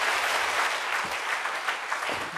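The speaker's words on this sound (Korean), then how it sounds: "박수를 한번 세게 쳐봐." A church congregation claps hands loudly together, a dense, sustained burst of applause filling the room with no voices over it.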